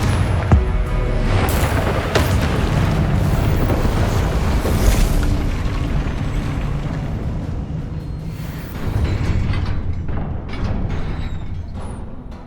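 Confringo blasting spell from Hogwarts Legacy erupting in a long, loud rumbling boom with crackling debris that rolls on for several seconds, then a second surge of rumble near the end.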